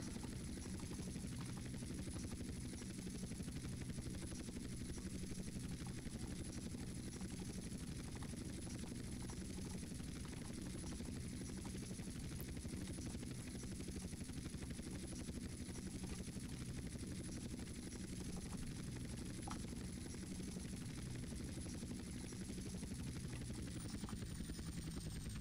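Helicopter in the video game GTA San Andreas, a steady loud rotor drone with a constant high whine running throughout, alone without talk.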